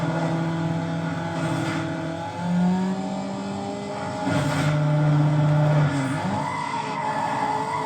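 A race car in Need for Speed Underground holds steady engine tones that shift pitch between gears, with brief tire skids, loud and close throughout.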